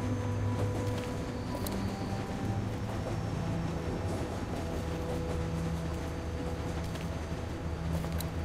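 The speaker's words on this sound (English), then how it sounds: "Hold on tight in case the train stops fast." A train rumbles steadily along the tracks in The Walking Dead video game, a low, continuous mechanical roar with faint rattles and clanks, moderately loud and unbroken, with no voices.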